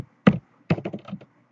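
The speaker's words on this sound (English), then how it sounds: "I'm typing here also" A few close keyboard key taps: one single press, a pause, then a quick cluster of clicks, heard alone in a quiet room.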